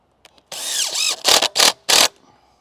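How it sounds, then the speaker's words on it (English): A cordless impact driver whirs in a sustained burst while building a fence gate, then fires three short, loud bursts in quick succession, close by. "Love this drill. Impact driver."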